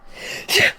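A single close human sneeze: a brief intake of breath, then a sharp, loud burst near the end.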